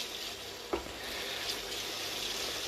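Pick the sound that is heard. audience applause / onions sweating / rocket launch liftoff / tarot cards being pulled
onions sweating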